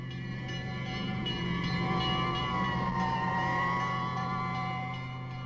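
A fire truck siren wailing continuously, its rising and falling tone steady and prominent over a low engine rumble, heard alone without speech, from a 1970s educational film.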